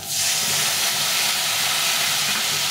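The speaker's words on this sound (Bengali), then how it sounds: "এটাকে ভালো করে ভেজে নিতে হবে।" Ground spice paste frying in a hot pan, a loud, continuous broad hiss of sizzling oil that sets in sharply and holds steady, close up with no voices.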